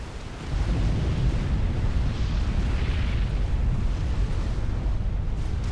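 An experimental bomber blowing up in Supreme Commander, heard as a loud, steady roar of explosion rumble that keeps going without clear separate bangs.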